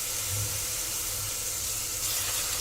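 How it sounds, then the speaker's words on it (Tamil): Mutton pieces frying in oil in a pan for mutton kulambu, a steady broadband sizzle and hiss that holds even and unbroken throughout, with no voices heard. "எண்ணெயிலே நல்லா வதக்கணும் இந்த கறியும்"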